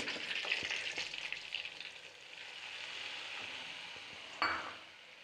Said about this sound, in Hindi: और इसको चलाते हैं और इसको अच्छा भून देंगे सूजी को